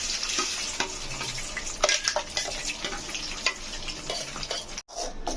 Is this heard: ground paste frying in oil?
yes